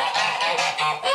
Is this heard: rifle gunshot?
no